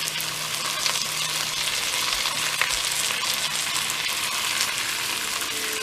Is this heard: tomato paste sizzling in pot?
yes